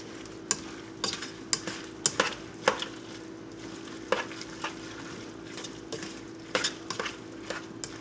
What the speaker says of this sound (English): give this a quick little stir